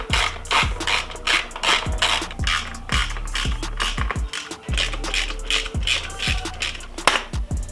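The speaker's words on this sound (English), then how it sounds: "On the brake side of the bike, we've got three 5mm fasteners to remove." Ratchet removing 5mm fasteners from the radiator guard of a Honda CRF300L motorcycle, a steady run of close, rhythmic scratchy clicks repeating throughout with a brief pause midway.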